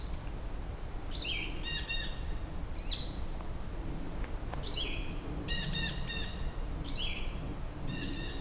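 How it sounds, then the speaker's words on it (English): Bird calls ring out in a spring meadow, a series of short harsh two-part calls repeated roughly every two seconds over a steady low outdoor rumble, fairly clear and moderately near, with no talk. "Blue jay."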